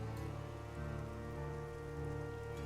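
Steady rain pattering across a ship's deck, a close, even wash of drops playing as an ambient background for a tabletop role-play session, heard alone with no voices.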